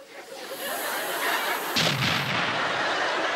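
A comedy-sketch bomb blast: a loud, sudden boom with a rumbling low-end burst, rising out of steady noise and fading over a couple of seconds, with no talking over it.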